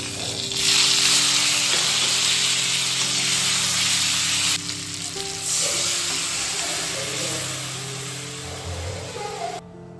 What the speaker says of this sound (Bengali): ফুলকপি আলু ভাজাতে কড়াইটা কালো হয়ে গেল, টমেটোগুলি দিয়ে দিই।